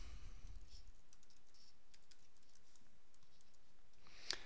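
Computer keyboard being typed on to enter an email address and password: faint, sparse key clicks over a quiet background, with a sharper click near the end.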